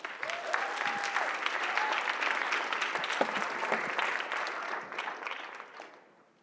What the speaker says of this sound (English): please join me giving one more time a round of applause to all the contestants